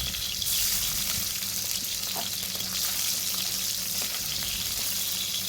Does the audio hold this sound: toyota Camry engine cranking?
no